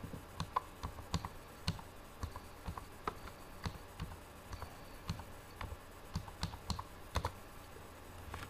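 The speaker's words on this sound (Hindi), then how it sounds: "तो क्रिएट डेटाबेस यहाँ पे टाइप करेंगे।" Typing a command on a computer keyboard in a MySQL lesson: a steady run of sharp, close key clicks in an irregular rhythm, with no talking.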